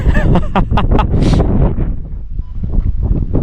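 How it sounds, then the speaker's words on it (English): Heavy wind buffeting a microphone on the summit of Goatfell, loud rumbling gusts that roar and then ease, with broken speech partly drowned beneath them. "I've no idea if you can hear me or not because it's so windy."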